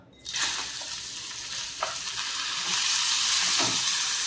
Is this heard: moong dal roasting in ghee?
yes